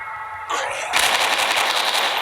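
Rapid automatic gunfire from a horror video game, a loud continuous burst that kicks in and holds steady under a brief stretch of play.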